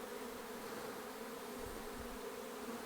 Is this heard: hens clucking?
no